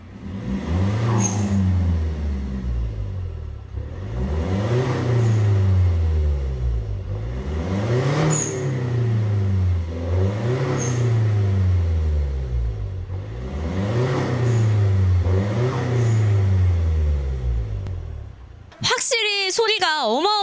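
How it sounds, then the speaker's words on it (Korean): A tuned diesel Kia K5's aftermarket exhaust is revved repeatedly, each rise and fall of the engine close and loud, followed by a brief bright electronic jingle. "이쯤에서 배기 듣고 오겠습니다"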